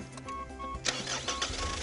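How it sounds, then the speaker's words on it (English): A diesel car engine turned over with the key, a faint whirring starter crank followed by a sudden louder catch and rough, steady running. "Your job's to hit the key. If we've done everything well, she'll start."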